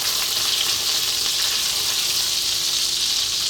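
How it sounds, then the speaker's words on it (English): Cumin seeds sizzle in melted butter in a pan, a loud, steady, close frying hiss that carries on without a break. "What we're gonna do is drop in those cumin seeds."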